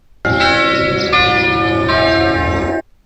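Church bells isolated by stem extraction from a recording made near a car ring in a sustained, bright metallic peal, loud and steady for over two seconds before stopping abruptly.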